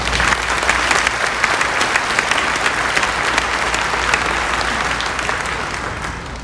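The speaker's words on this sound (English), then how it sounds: "Please give them a round of applause." A graduation ceremony audience at Clinton High's 2021 commencement claps in a dense, sustained round of applause, many hands blending into a steady wash that holds for several seconds and eases slightly at the very end, with no talking over it.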